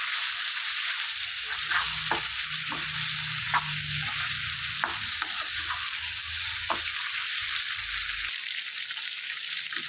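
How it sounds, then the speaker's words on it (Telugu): Salted chicken pieces fry in hot oil for a Telangana-style curry, producing a loud, dense, unbroken sizzle up close, with occasional light ticks of stirring and no voices. "దీన్ని చక్కగా ఫ్రై చేసుకుందాం"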